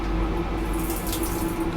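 Water tap running steadily in the cramped toilet of an Indian superfast express train, a continuous splashing hiss into a small basin, fairly loud and close, with no voices.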